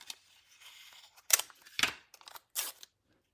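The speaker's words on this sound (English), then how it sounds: "Now, I'm going to take and cut out the pears and cut out the flowers with these." Scissors snipping out stamped paper pears and flowers, several separate crisp cuts and rustles up close in an otherwise quiet room.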